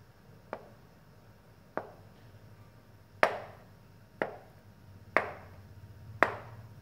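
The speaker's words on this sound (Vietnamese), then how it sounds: "Mình sẽ thái đậu ra để mình đem đi chiên." Knife chopping through tofu on a cutting board while prepping it for frying in a Vietnamese kitchen, six sharp separate strokes spaced about a second apart, close and clear with no talk.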